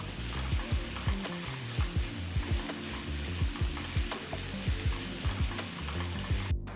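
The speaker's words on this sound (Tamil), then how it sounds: "வெங்காயம் வந்து பொன்னிறமாக வதங்கணும்னு அவசியம் இல்லை" Onions and tomato sizzle steadily in a hot pan while a utensil scrapes and stirs in a regular rhythm, nearby and without talk.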